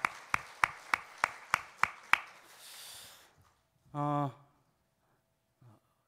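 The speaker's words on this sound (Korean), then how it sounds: "우리 박수로 환영하겠습니다" Church congregation clapping to welcome a new organist at a Sunday service: about eight crisp, evenly spaced claps, then quiet, a short voiced sound and a faint murmur.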